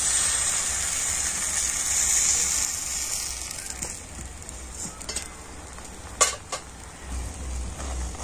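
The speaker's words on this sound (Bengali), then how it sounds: "তো 1 হাতা ব্যাটার নিয়ে দিয়ে দিচ্ছি।" Batter sizzles steadily in a lightly oiled hot pan while mango patishapta crepes are cooked, a soft continuous frying hiss with a few brief clinks of utensils near the end.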